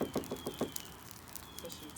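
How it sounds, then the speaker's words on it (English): A knock at a door, heard as a quick run of about five sharp raps in the first second, fairly close, with faint room tone afterward. "she heard a knock at the door"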